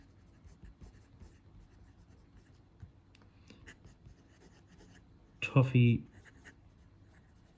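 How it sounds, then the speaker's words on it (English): A Majohn P136 fountain pen with a medium steel nib, filled with brown ink, writing on paper, making a soft close scratching that comes and goes in strokes, with a person talking briefly near the end. "we'll just do the quick writing sample with the Moonman"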